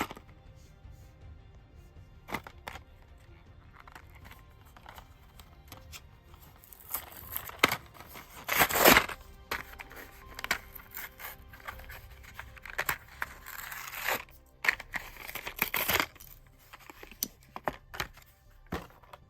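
Mega Construx Halo Heroes Series 14 figure packaging is torn and crinkled open close by, a run of irregular plastic crackles, rips and clicks that grows busier and louder midway, with no talking.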